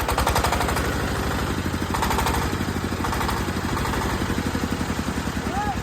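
A Dongfeng power tiller's single-cylinder diesel engine runs close by after starting, a loud, rapid, evenly thumping chug that holds steady throughout, with a voice speaking briefly over it.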